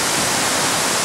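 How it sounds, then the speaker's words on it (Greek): Livaditis waterfall, 40 metres high, sends water rushing down in a loud, continuous broadband roar, close and steady with no voices. "Έχουμε φτάσει στο καταράκτη του Λιβαδίτη."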